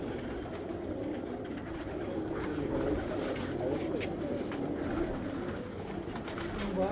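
Sialkoti cross pigeons coo in a steady, continuous murmur that stays close and fairly loud for the whole stretch, layered soft calls overlapping with no clear pause.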